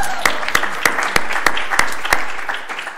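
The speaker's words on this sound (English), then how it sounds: "you should give them a round of applause." An audience at a university event honoring an inaugural endowed professor of disability health and justice claps in steady, full applause that fills the room, close and loud, with no voices over it.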